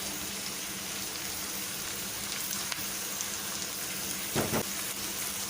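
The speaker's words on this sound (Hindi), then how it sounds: "ये दोनों चीज़ें डाल के इसको थोड़ी देर भूनेंगे हम" Chopped garlic and ginger fry in a pan, giving a faint, steady sizzle that runs throughout, with a brief clatter of the utensil near the end.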